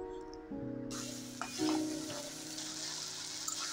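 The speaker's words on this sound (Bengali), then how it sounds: "ছোলাগুলোকে বাগার দিব।" Boiled chickpeas tempered in a hot pan with oil, a loud burst of sizzling that starts partway in and then holds steady, with scraping and clinking of a spoon as the chickpeas are stirred.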